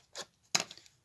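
Small scissors snipping paper, three short crisp cuts close by in a quiet room.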